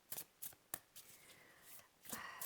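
Tarot cards shuffled close up, a few sharp card slaps followed by a longer soft riffle and another flurry of cards, quiet and without talk.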